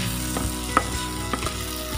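Mee sua noodles and bean sprouts are stir-fried in a hot pan, giving a steady broad sizzle with a few soft scraping stirs of the spatula at irregular intervals.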